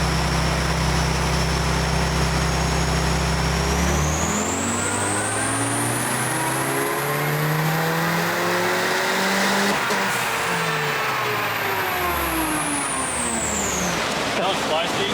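A turbocharged stock Honda D16 engine running 18 psi of boost revs hard, its pitch sweeping up and holding high before falling away, loud and continuous with a whistling turbo tone over the engine roar.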